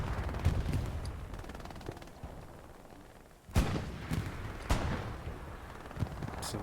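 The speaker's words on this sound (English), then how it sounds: "There's the arty coming down on it, but it might be too late." Artillery rounds land in the Hell Let Loose video game, heavy booms and crackling gunfire at a distance, with several sharp impacts clustered in the second half over a constant battlefield rumble.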